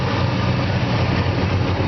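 A 1963.5 Ford Galaxie 500XL idles smoothly, a steady, even low rumble that holds without change from start to finish, close by and with no voices over it.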